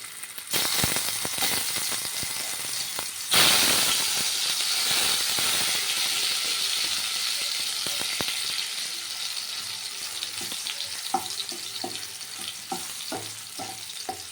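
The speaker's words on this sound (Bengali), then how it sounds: "ফ্রাইং প্যানে এই আলুগুলো এবার ভেজে নিই" Potatoes frying in oil in a frying pan, a continuous hissing sizzle that surges loudly around the middle as more goes in, then settles into a steadier crackle with scattered pops and faint stirring clicks.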